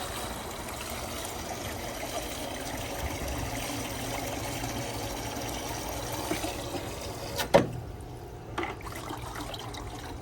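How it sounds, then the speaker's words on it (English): Steady running water pours and trickles continuously into a bucket while flushing a Rheem tankless water heater, close and moderately loud, then a sharp clunk and the flow quiets near the end. "turn the water back on, and fill it up with about 2 gallons worth"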